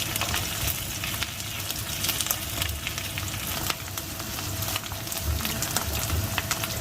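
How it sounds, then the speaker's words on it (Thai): Homemade basil curry paste with chili and garlic stir-fried in a hot pan, giving a steady close sizzle and crackle throughout with occasional scrapes of the spatula. "แล้วจะผัดให้หอมนะคะ"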